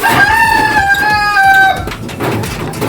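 Six-week-old Rhode Island Red and Jersey Giant heritage chickens let out a loud, close, drawn-out crowing call that lasts well over a second, with no one talking.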